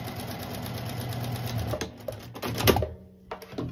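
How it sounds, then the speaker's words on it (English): Sewing machine stitching a diagonal seam across quilt pieces for a scrappy quilt, a steady close mechanical whir that pauses briefly and then resumes in short bursts. "So I'm sewing a diagonal."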